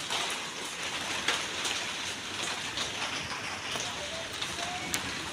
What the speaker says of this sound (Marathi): 3:15 पाऊस बरोबर इलो.